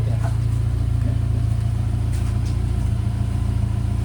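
A Subaru Legacy car sits with its engine idling nearby, a loud, steady low rumble that holds constant throughout without revving.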